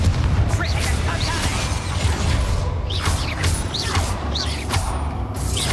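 Expulso and Confringo blasting spells explode in the Hogwarts Legacy video game: several loud, close booms and crashes, each with a sharp whooshing burst, come every second or so with a voice shouting between them.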